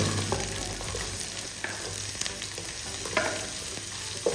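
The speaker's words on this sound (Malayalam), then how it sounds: "ചെറുതായിട്ട് കുത്തിയരിഞ്ഞു വെച്ച സവോള ഇതിലേക്ക് ചേർത്ത് കൊടുക്കാം." Finely chopped onion sautés in a hot pan for a Kerala-style green chili curry, a steady close sizzle and crackle with occasional stirring scrapes, no voices.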